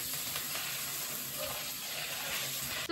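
Pasta cooking in a home kitchen, a steady, close sizzling and frying hiss that continues without a break, with faint stirring and no talking.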